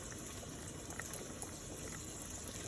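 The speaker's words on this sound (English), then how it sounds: "There's my pasta, it's cooking." Pasta boiling in a pot of water on the stove, a steady bubbling and rolling simmer that runs evenly throughout at moderate volume, with no talk.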